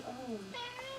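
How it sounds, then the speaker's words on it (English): A house cat meows in a short rising-and-falling call, close and fairly loud, with a person talking over it. "Shut up, cat."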